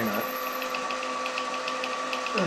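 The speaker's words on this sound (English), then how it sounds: "it's a chip that's stuck on the drill bit. It's rubbing against the wall." A drill turns in metal with a chip stuck on the bit, rubbing against the hole wall, giving a steady whining tone with faint repeating ticks that fades out at the end.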